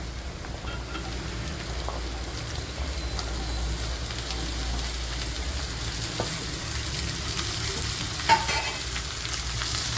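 Bottle gourd and onion sauté in a pan with a steady, even sizzle heard close up. Faint stirring scrapes come through now and then, and a single brief clink sounds near the end.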